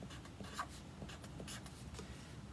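A marker pen writing on paper for a Valentine's heart craft, with soft close scratchy strokes in short irregular bursts against a quiet room background.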